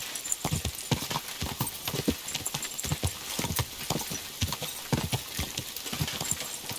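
Horse hooves clip-clop in a steady, brisk rhythm in the video game Kingdom Come: Deliverance 2, each hoof strike distinct and close, with no talking.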